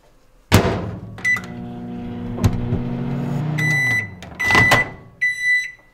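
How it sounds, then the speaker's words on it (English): A microwave oven heats butter packets: a steady electric hum runs for several seconds between door clunks, then a few sharp electronic beeps sound near the end, close and clear. "I need to heat the butter packets for 30 seconds in the microwave."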